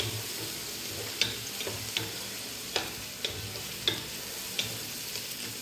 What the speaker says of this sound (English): the stirring part is boring. To wait until it's changed the color.